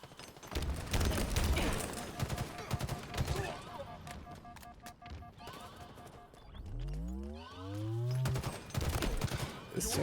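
Rapid bursts of gunfire from the video game Halo Infinite crackle in dense volleys, with a falling whoosh and rumble near the end, under occasional talk.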